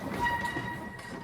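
Richmond Light Railway train running along its main loop line past vintage cars and portable steam engines, a steady close rumble with rail noise and a sustained whistle-like tone throughout.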